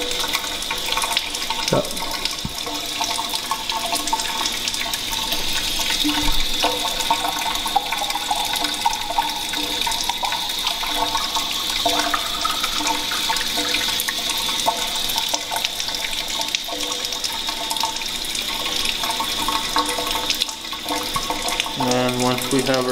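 Tap water running into a sample bottle at a water treatment site, a steady rushing stream heard throughout with a brief spoken word near the start.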